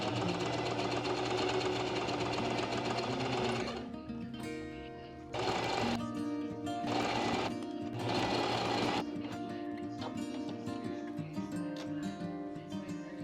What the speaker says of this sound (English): I'm going to be heading over to the sewing machine and I'm just going to be attaching the pockets along this line